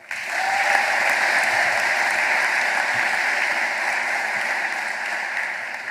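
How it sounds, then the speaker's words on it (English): A graduation ceremony crowd erupts into loud, continuous applause and cheering, a dense wash that swells at the start and holds steady for several seconds with a short cheer early on. "Let's get a big cheer for that."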